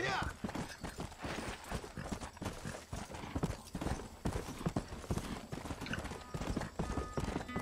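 A horse gallops in the Red Dead Redemption video game, its hooves clip-clopping in a fast, continuous rhythm up close, with game noise layered underneath and no clear talking.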